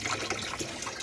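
Water flows in through a small green hose in a gravity-fed water system, a dense, close trickling and splashing that runs continuously without pause.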